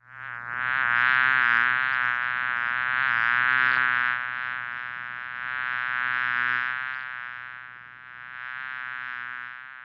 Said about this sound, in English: let's change and go into these hives and hope that the bees aren't all that aggressive